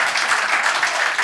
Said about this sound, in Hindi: ताली हो जाए जो कॉर्पोरेट में काम करता